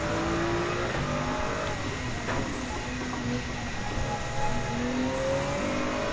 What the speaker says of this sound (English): Mercedes-AMG GT3 2016 incoming from behind